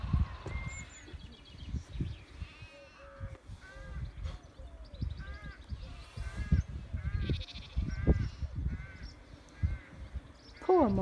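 Sheep bleat repeatedly near a campsite in the countryside at Appletreewick, several wavering calls close by over rustling and handling noise, with a crow or two cawing among them.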